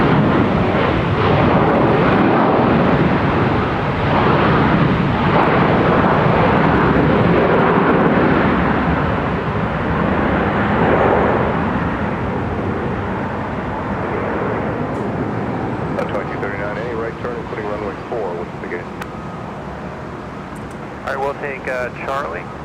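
A United airliner departing runway 30 left at Minneapolis–St. Paul Airport: a heavy, loud engine roar that slowly recedes and fades over about twenty seconds, with a voice emerging near the end.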